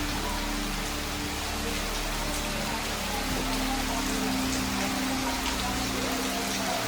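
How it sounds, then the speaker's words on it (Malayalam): Heavy rain pours down steadily on a rural Kerala village, a dense even hiss of drops on surfaces with a low constant rumble beneath, unbroken and close for the whole stretch. "ഇവിടെ ഫുള്ള് മഴയാട്ടോ."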